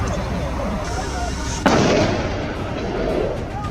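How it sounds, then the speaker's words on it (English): A single sharp gunshot crack from a boar hunt rings out, then trails into a reverberant decay over steady background noise. "Following the sharp crack of gunfire"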